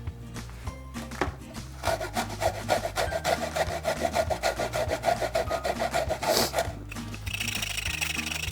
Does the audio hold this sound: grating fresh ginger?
yes